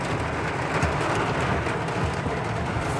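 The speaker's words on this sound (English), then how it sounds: "Look at the rain." Heavy rain pours during a summer storm in downtown Watford City, a dense, continuous hiss of drops with low rumbling underneath and no voices.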